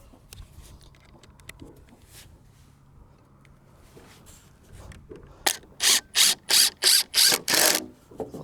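A screw being driven into roof flashing at a new property, heard as a run of about seven loud, evenly spaced bursts from a powered driver after quieter handling sounds.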